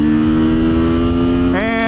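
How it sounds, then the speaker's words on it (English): A 2024 Kawasaki Z7 Hybrid motorcycle accelerating hard from 40 to 80, a loud, close, steady engine drone that jumps sharply in pitch near the end. "All right, 40 to 80 on a 2024 Kawasaki Z7 Hybrid. On your mark, get set, go."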